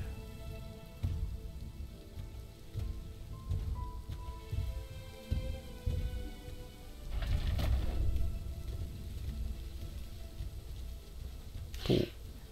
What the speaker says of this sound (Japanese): 雨がすごいね。